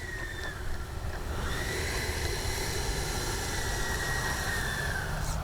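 FMS 80mm F-86 RC jet model with its electric ducted fan, a steady airy whine and rushing hiss, moderately loud and constant over outdoor background noise, with a faint rising tone near the start and no talking.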